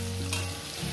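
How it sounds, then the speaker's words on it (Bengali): Potatoes fry in a pan with a continuous close sizzle and a faint stirring scrape, brief and without talking. "আমি আলুটাকে সুন্দর করে ভেজে নিই"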